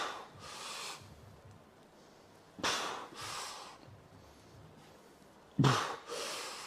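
Heavy, forceful breaths during a chest-building weightlifting session, three loud exhalations spaced a few seconds apart over a quiet background.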